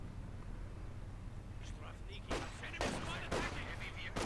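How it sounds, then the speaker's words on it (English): MG34 machine gun fire in the strategy video game Company of Heroes 2, with several loud bursts of rattling shots in the second half over a low steady rumble, while a voice talks. "Two MG34s, that's quite a lot of suppression, quite hard to outmaneuver."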